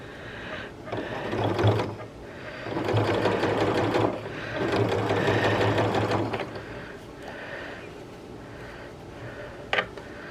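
A sewing machine stitches close to the edge of a bias armhole finish on a garment, running in steady close bursts of rapid mechanical whirring with brief pauses between, with no talking.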